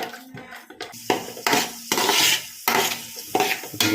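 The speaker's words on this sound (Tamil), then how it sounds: "திராட்சை பழத்தை போட்டு இதையும் கொஞ்சம் பொரிஞ்சு வர அளவுக்கு நல்லா வறுத்தெடுக்கணும்" Raisins fry in hot oil for chicken biryani while a spoon stirs them, making repeated close, loud scraping strokes over a constant sizzle of oil.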